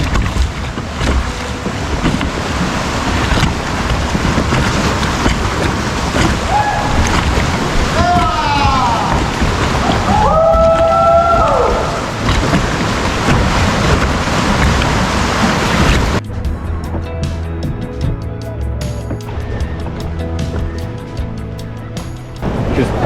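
Ocean waves and wind rush loudly and steadily while a kayaker paddles hard through big waves at sunset in Puerto Vallarta, Mexico, with faint tonal squeaks midway and the texture dropping to quieter lapping water near the end.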